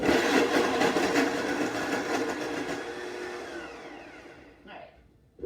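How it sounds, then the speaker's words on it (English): A blender purees a large tomato for watermelon gazpacho in a home kitchen, its loud steady whir running for several seconds, slowly easing off, then cutting out with a brief clatter at the end. "And we'll just give this a quick puree."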